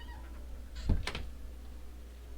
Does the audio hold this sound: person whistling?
no